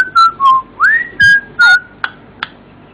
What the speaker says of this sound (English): Okay, then how about you whistle for him happy birthday?